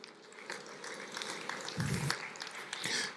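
Congregation applause in a church, a dense steady patter of many hands clapping at moderate loudness throughout, with no clear talk over it.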